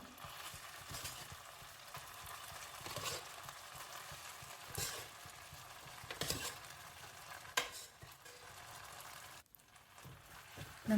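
Broken wheat stirring and frying in ghee in an uruli, a soft continuous sizzle with scraping strokes and occasional clinks, moderately quiet and free of talk.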